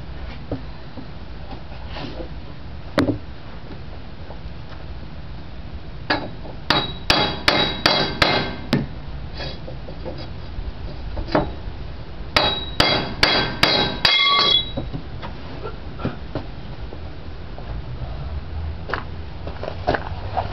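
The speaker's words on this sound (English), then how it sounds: "I'm going to try to hit it from the other side with this 3-pound hammer" A 3-pound hammer striking a Bobcat S70 wheel hub during bearing and race removal: sharp metallic blows, isolated at first, then rapid bursts of several hits, close and loud, with no talk.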